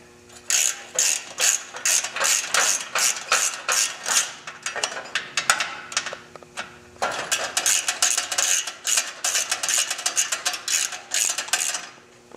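Ratchet wrench snugging up bolts on a motorcycle open belt cover, a long run of close, steady clicking strokes with one short pause midway, loud and alone without speech.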